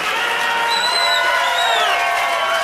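A crowd of club or concert listeners cheers and applauds at the end of a song, with a sustained wash of noise and a few whoops rising above it, steady and loud throughout.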